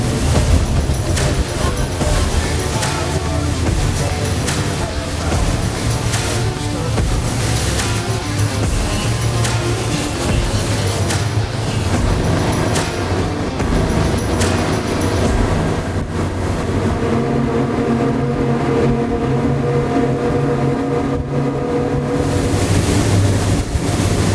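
Four new 300 outboard engines on a 42-foot Freeman boat drone steadily and loudly at cruise speed during break-in, with a constant low hum and some tonal shifts, and no talk over it.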